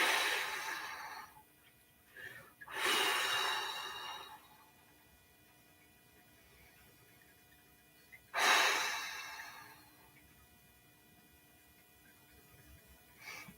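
Audible breaths drawn in and pushed out during a seated stretching exercise, three strong breathy bursts near the start, middle and end with quiet pauses between, close and soft, with no talking.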